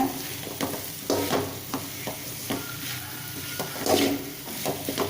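Vegetables sauté in a hot pan, food sizzling and frying with repeated stirring scrapes at an uneven rhythm, close and fairly loud.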